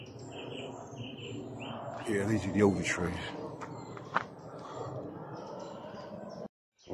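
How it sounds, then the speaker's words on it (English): Bright, repeated song thrush phrases ring out outdoors on a nature walk, partly beneath a person speaking softly nearby. "that call, that is a song thrush"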